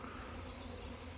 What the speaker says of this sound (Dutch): gewoon duizenden bijen die gewoon aan het zoomen zijn en overal heen vliegen